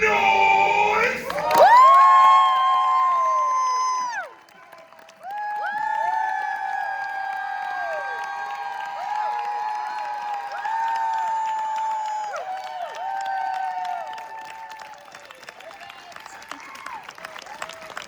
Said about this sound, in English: stomp, clap, scream, it doesn't matter, but what I implore to you, make some noise!